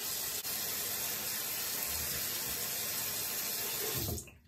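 Tap water runs steadily into a bathroom sink to rinse off after a shave with a Razorock Gamechanger razor, a close, even splashing rush that cuts off abruptly near the end.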